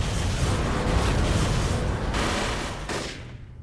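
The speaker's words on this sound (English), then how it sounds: "greeted by the sound of gunfire or something like that" Dense, continuous gunfire and explosive bursts roar throughout in the video game City of Villains, a chaotic battle din that fades slightly near the end.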